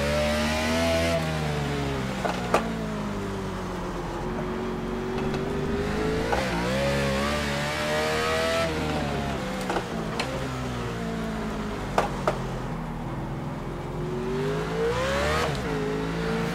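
A 2014 NASCAR stock car engine roars in iRacing at Sonoma, revving up and down through the laps, repeatedly bouncing off the rev limiter with brief stutters and occasional tire chirps.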